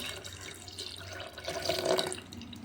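Water is poured from a stone grinder into a bowl of rice batter for appam, a soft splashing trickle that grows a little louder toward the end, with no talk.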